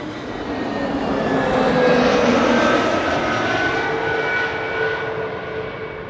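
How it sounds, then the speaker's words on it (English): A KLM Airbus A321neo lands at Amsterdam Schiphol, its jet engines giving a steady, broad roar that swells slightly in the middle and fades a little toward the end, heard alone without talking. "Next airplane to land here is KLM flight 1902, arriving from Vienna. That's an A321neo."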